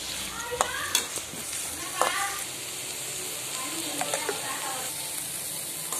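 Sprouted green gram tempered in a hot pan sizzles while a spoon scrapes and stirs it, with a few sharper clinks along the way.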